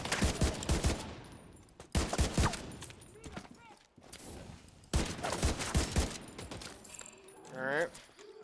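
Enemy gunfire in The Division video game rings out in three rapid, rattling bursts of automatic fire separated by short pauses, fairly loud, with a brief voice and a rising electronic tone near the end.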